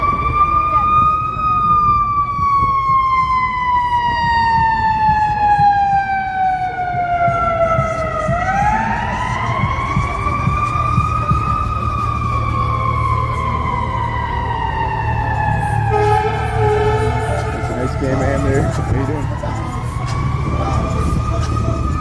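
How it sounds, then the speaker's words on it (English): Fire truck siren on a Chicago city street near the Wrigley Building, wailing loud and close as it rises and falls in long sweeping cycles over a steady rumble of traffic and engine noise. "Here comes the sirens. Here comes the fire truck."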